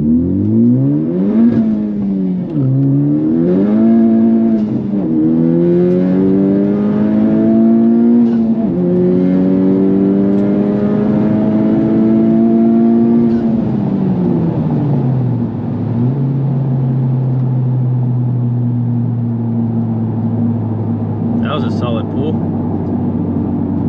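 A car running an E85 tune accelerates hard in second gear, its engine note climbing in repeated loud, close surges before settling into a steadier drone.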